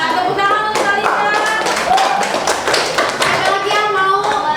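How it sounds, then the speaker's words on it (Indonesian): Classroom applause for a student, a loose patter of hand claps from pupils with children's voices and chatter mixed throughout, steady and fairly close. "Tepuk tangan untuk Talita."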